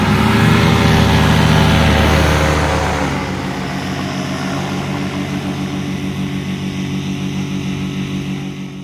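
An ultralight mini trike aircraft's engine roars loudly and close during takeoff at Khao Chakong in Nakhon Nayok, then settles into a steady, pulsing drone as it pulls away.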